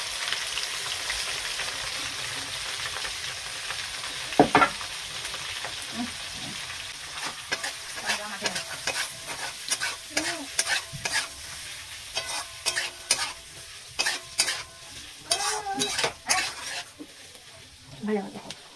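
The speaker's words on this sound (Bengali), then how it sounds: "ভাজা ভাজা, বেশি তো ভাজা না" Onion, tomato, capsicum and green chilli fry in a pan. They sizzle steadily while a spoon repeatedly scrapes and stirs, in close, uneven strokes that grow busier toward the end.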